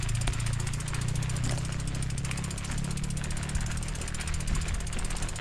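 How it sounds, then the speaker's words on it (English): A motorcycle engine drones steadily along a road, a continuous buzzing hum that holds at an even level throughout, with faint rhythmic ticking and road noise over it and no talking. "there's a motorcycle on the road"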